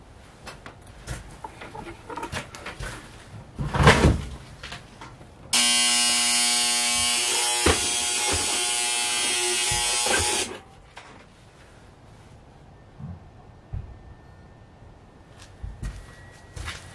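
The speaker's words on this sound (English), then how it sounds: "If you tip this heater over, it makes that noise." A space heater in an old pop-up camper gives off a loud, steady buzzing alarm tone for about five seconds after being tipped over, with quieter clattering and handling noises before and after.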